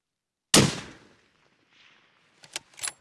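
A single sharp rifle shot from a Christensen Arms MPR chambered in 300 PRC cracks loudly and close, then fades, followed by faint distant echoes and small impact sounds.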